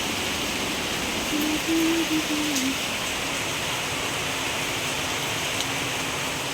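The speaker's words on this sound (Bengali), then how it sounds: "দারুণ বৃষ্টি আজকে" Continuous outdoor rainfall makes an even, close hiss, with a brief tonal sound rising over it near the start before fading.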